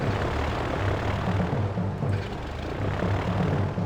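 Dive bomber aircraft launching in the naval war game Victory At Sea Pacific give a steady, loud propeller engine drone with a low rumbling throb that holds throughout. No one speaks.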